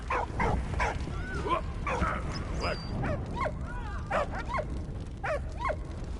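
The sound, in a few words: dog barking in video game Valiant Hearts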